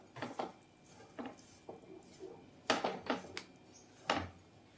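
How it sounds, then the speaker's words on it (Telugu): Ragi flour being mixed with ghee in a bowl gives scattered scraping and clinking knocks of a utensil against the bowl, close and fairly quiet, arriving in irregular bursts with no talking. "ఇలా నెయ్యి యాడ్ చేసుకుంటా మిక్స్ చేసుకుంటూ ఉండాలండి."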